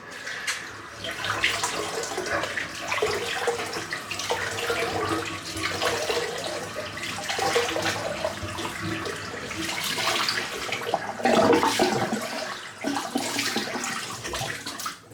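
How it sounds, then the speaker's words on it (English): Water splashing and running from a tap into a basin after a head shave, a steady broadband wash with a louder surge near the end, close and continuous with no voices. "Splash of cold water as well."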